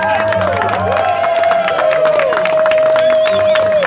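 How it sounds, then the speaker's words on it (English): Crowd at a political event in Los Angeles clapping and cheering, loud and continuous, with whoops, voices and a sustained tone running through the noise. "get a round of applause"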